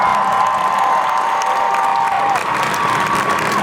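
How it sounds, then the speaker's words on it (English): A large audience at a Harry Potter tribute event at Universal Orlando Resort claps loudly and steadily, with cheers and scattered whoops mixed into the dense, sustained applause. "let's give Alan another big round of applause"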